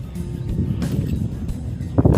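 Wind gusts at an outdoor eco park buffet the microphone in a steady, loud, low rumble with short surges near the end and no voices.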